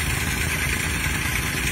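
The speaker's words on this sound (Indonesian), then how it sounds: "Ya, kita jalan ke arah motor. Ayo Lur, kita OTW ke sana, kita pakai motor." Motorcycle engine idling close by, a steady, dense rumbling drone with faint clatter and no pauses.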